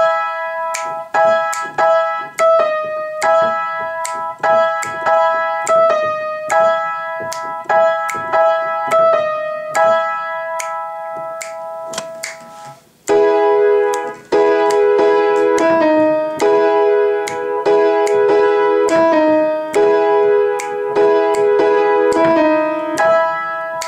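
A piano plays the right-hand verse loop of a song as steady, evenly repeated chords, with a short break midway before the pattern resumes lower and fuller. It plays alone, without any talking.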